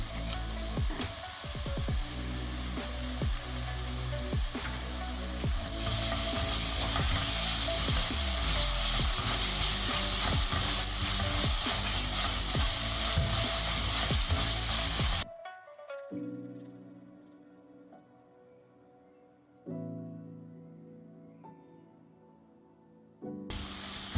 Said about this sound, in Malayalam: മസാല നല്ലവണ്ണം വഴറ്റിയെടുക്കണം. എണ്ണ സെപ്പറേറ്റ് ആയി വരുന്നവരെ ഒന്ന് വഴറ്റിയെടുക്കണം.